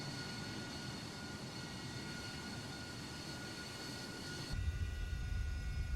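AV-8B Harrier II jet in Microsoft Flight Simulator 2020 roars with a steady broadband engine rush and whine, deepening into a louder low rumble near the end as the nozzles swivel to slow it.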